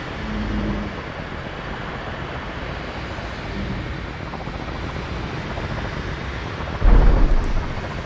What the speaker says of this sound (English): A little bit of a rough landing.